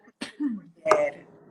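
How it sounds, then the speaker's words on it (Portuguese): A woman coughs during a Portuguese-language conversation, with a sharp burst near the start, a brief voiced sound, then a second harsher cough or throat-clearing, close and fairly loud. "Deu uma tosse aqui agora."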